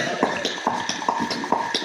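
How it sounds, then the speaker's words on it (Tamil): Rhythmic clip-clop of horse hooves as a sound effect, sharp taps repeating steadily at a moderate pace over a faint background hum. "குதிரை சவுண்ட்"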